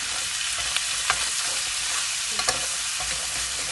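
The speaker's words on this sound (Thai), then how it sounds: "ผัดไปเรื่อยๆค่ะผัดแล้วก็เช็คจนผงกะหรี่ส่งกลิ่นหอมขึ้นมา" Blue crabs stir-fried with curry powder in a pan: a continuous sizzle with a spatula stirring and occasional sharp clinks and scrapes.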